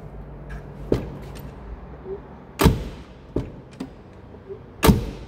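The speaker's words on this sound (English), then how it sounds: "the sound of the Jaguar door should be this way" A Jaguar X-Type car door is shut several times, each closing a solid thud, with lighter clicks and latch sounds in between.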